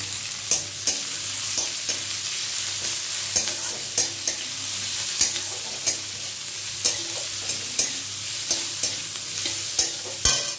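Chopped onions and green chillies fry in a hot pan with a steady sizzle, while a utensil scrapes and stirs them in a fairly regular rhythm of sharp strokes, close and loud, with no voices.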